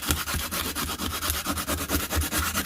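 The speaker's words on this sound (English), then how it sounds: "that's one of the ways you can sand a round corner just so it's smooth" Sandpaper wrapped around a screwdriver handle rubs back and forth over a rounded wood edge during a kitchen renovation, giving a steady rhythmic rasping of quick, even strokes, close and fairly loud with no talking.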